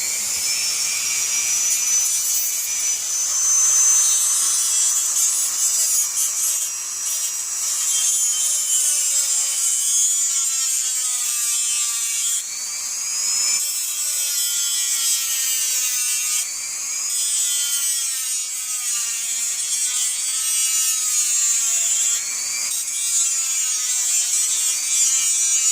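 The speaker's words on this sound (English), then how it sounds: "my Dremel, it's a little stone rock on it, and I'm cutting it off" A Dremel fitted with a small stone bit grinds through an arrow insert, giving a high, steady whine with a wavering pitch as the load changes, close up and loud, running almost without pause.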